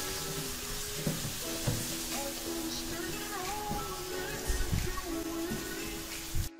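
Diced potatoes and fenugreek leaves fry in a pan for an aloo methi dish, giving a steady, moderate sizzle with a few soft clicks and stirring scrapes throughout.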